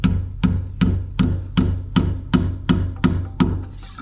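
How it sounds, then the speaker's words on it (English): Hammer blows strike bricks being set into a wall at a Fiji building site, about eleven sharp, loud, ringing hits spaced evenly at a brisk pace, close by, with no talking. "so you have to hammer it"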